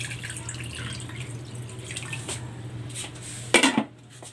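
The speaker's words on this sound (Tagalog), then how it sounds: "Maglalagay din ako ng tubig." Water is poured into a pan of pork ribs seasoned with salt and pepper. A running, splashing stream trickles throughout, ending in a brief louder clatter and splash before it cuts off.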